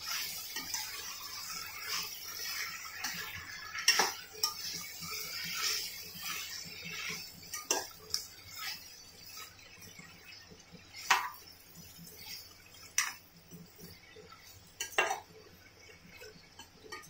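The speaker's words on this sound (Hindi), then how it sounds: "थोड़ी देर हम ऐसे ही हिला के मिक्स अच्छे से हो जाए हमारे मसाले।" Spices such as turmeric, red chilli powder and coriander powder are stirred in a pan for a bell pepper sabzi, with soft scraping and clinking of a utensil against the pan plus a few sharper knocks, fairly quiet and close.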